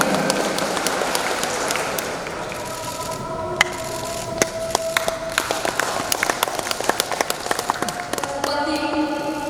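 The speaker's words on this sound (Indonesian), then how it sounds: "Sekali lagi kita berikan tepukan yang luar biasa." Applause from an audience at an installation ceremony for Toraja community officials in Indonesia, a sustained wash of clapping with sharp individual claps standing out, heard fairly near and continuing for several seconds.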